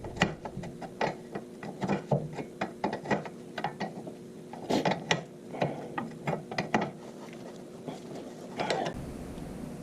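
Ratchet clicking repeatedly as it tightens the CV axle nut on a 2007–13 Honda Fit, irregular bursts of sharp metallic pawl clicks close to the mic, no talking.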